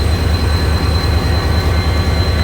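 A train arrives at Tando Adam railway station on a cold day with a loud, steady, close rumble and a faint high whine running throughout.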